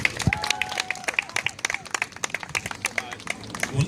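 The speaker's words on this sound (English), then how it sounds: "So if you can give them a round of applause" A small outdoor crowd at a police and youth baseball league event in North Lawndale claps for Jackie and her staff. The claps are scattered and uneven, with a few sharp ones up close, and voices chatter around them.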